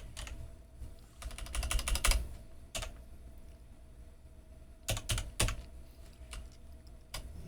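Keys clatter on a computer keyboard as a root password is entered during an Arch Linux install, coming in quick close bursts of clicks separated by quiet gaps, with no talk.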